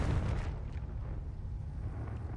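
A loud, rumbling magical blast from the Confringo explosive spell in the video game Hogwarts Legacy, a single heavy burst that decays into a low sustained roar with no talking.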